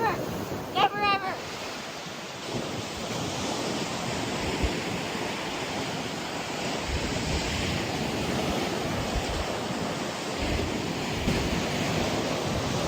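Continuous roar of ocean surf with wind rushing across the microphone; a brief high whistle-like sound near the start, then steady breaking-wave noise.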